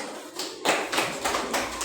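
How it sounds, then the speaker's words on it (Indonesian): Students in a middle school classroom clap for a presenting group, a short burst of applause that starts abruptly after a brief quiet moment and comes in a few surging pulses. "Beri tepuk tangan untuk kelompok 2."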